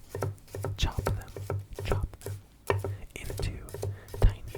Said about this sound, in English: I am chopping the garlic clove into tiny discs.